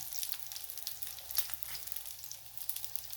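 Chicken box patties shallow frying in oil in a home kitchen pan, giving a steady, close crackling sizzle with small bursts throughout and no talking.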